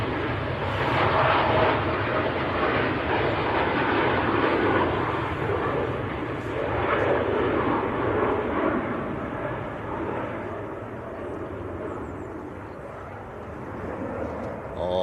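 A Boeing 747 jet departing Manchester Airport for Montego Bay, a heavy rumbling engine roar that swells and slowly fades over the stretch, with voices chatting beneath it.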